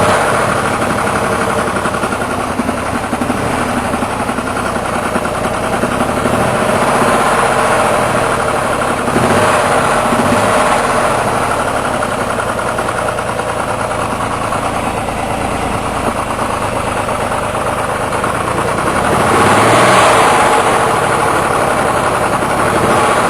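A running engine, started with a call of contact and ignition and run with the throttle worked despite a reported bad condition, holds a loud, steady rumbling drone with slight swells throughout and no one talking over it.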